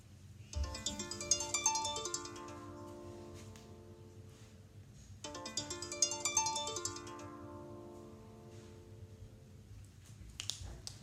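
A phone ringtone plays quietly, two identical bright melodic phrases a few seconds apart, with softer background sound in between.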